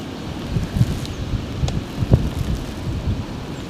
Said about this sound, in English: So we've got a blustery wind today, and it's bitterly cold.